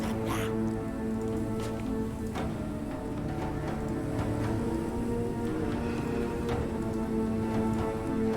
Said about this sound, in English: Right, snowy and going down to rain.